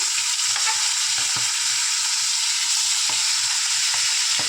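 Tengra fish frying in hot oil, a steady dense sizzle with soft crackles and pops throughout, close and continuous with no voices.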